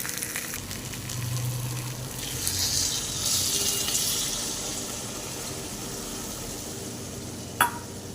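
Spice-rinse water is added to a sizzling potato and pointed gourd curry in a pan, giving a steady frying crackle, a louder hissing surge as the water hits, then a sharp clink of a utensil near the end.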